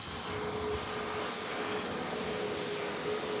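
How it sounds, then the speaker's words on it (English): KLM Airbus A321neo airliner taxiing in at Manchester Airport, a steady broadband engine rumble and hiss with a faint thin whine, continuous and moderately distant without talk. "There you go, taxiing in the KLM"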